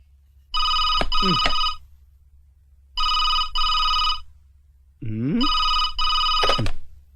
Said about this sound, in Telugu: ఫోన్ మోగుతుంటే ఎంతసేపు ఏం చేస్తున్నావు